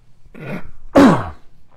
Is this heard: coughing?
yes